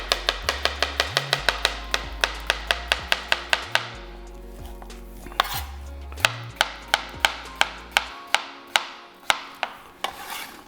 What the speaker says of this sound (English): we're just gonna chop it up here.